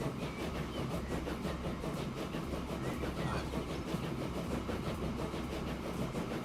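Continuous rail rumble of a train ride in the video game Transport Fever 2, set in 1862, with steady clattering wheels and broadband engine noise at an even level throughout, no voices.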